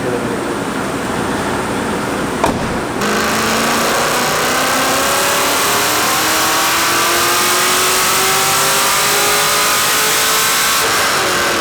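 LS1 V8 swapped into an E36 M3 revving on a dyno, a loud sustained pull with pitch climbing steadily after a brief lift, close and dominating throughout.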